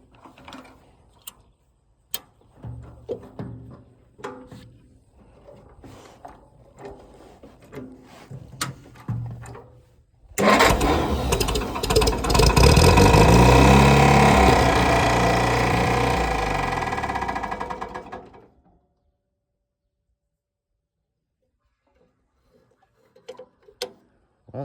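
A Farmall A tractor engine after scattered knocks and clicks. It catches and runs with a loud, throbbing, rhythmic chug for about eight seconds, then cuts out to near silence, with a few faint taps at the end.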